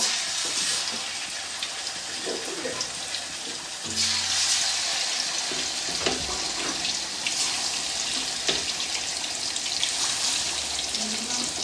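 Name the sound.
chicken pieces frying in hot oil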